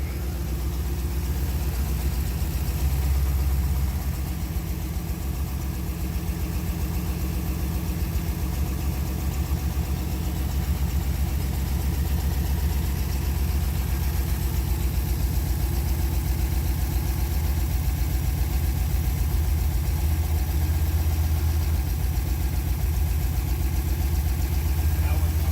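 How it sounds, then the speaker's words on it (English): Carbureted Chevy engine running in a Lancia Stratos replica, reportedly rich on the left bank, with a loud, steady low rumble that holds constant throughout, close and alone. "Apparently it was running way too rich on the left-hand bank, and Mike"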